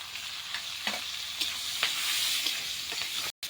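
Onions and torn green chilies fry in a pan with a steady, bright sizzle that holds throughout, broken by a few soft stirring scrapes and one short silent dropout near the end.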